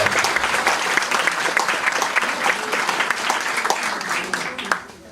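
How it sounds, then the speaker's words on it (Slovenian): Sustained audience applause at a rural community event in Brežice celebrating buckwheat cake, dense continuous clapping from a sizeable crowd lasting several seconds, steady and fairly loud, no speech over it. "jaz mislim, da se zaslužite še poseben aplavz"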